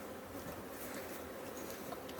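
Honey bees crowd around a hive entrance in Kincardine, a faint, continuous buzzing hum heard from close by without any voices.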